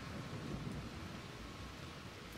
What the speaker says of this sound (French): Bah, il pleut.